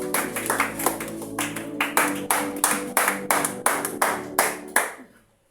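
A church congregation claps in a steady rhythmic beat in praise of the king, about a dozen crisp, sharp claps with musical tones ringing underneath, ending in a fading tail.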